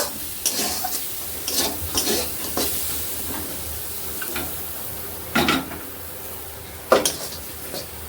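A spoon stirs chicken momo soup in a pan. Soft sizzling runs throughout, broken by irregular scraping and clinking strokes, near and fairly quiet.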